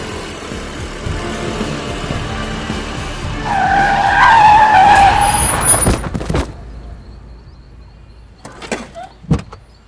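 A car skids hard to a sudden stop in front of a bike on a road, a loud tire screech swelling midway and breaking off, followed by a few faint thumps and knocks.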